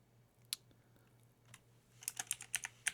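Computer keyboard keys clicking, one isolated tap early and another a second later, then a quick run of crisp keystrokes toward the end, close and moderately loud with no talking.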